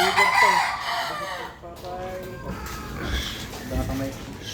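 A gamefowl brood stag rooster crows in the Cagayan Valley. Its call rises clearly at the start, then falls back as clucking and other fowl sounds continue under people talking nearby.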